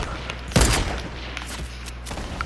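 Semi-automatic gunfire in Fortnite Battle Royale: one loud, sharp shot cracks out close by, followed by fainter scattered pops and rumble.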